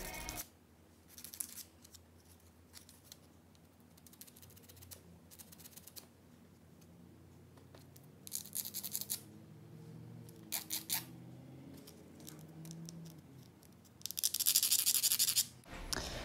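Acrylic nails are filed in short, scratchy bursts of rasping strokes, close and intermittent with quiet gaps between, ending in a longer, louder run of rapid filing.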